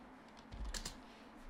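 A few quick keystrokes tap on a computer keyboard, soft and close, in a short cluster over a faint hum.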